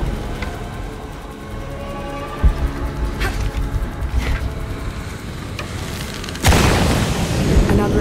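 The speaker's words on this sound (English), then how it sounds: "Another explosion would raise the platform." A deep explosion booms in the Shadow of the Tomb Raider game as a platform is raised, with a low thud midway through rumbling game ambience and a louder blast near the end that leaves a sustained roar.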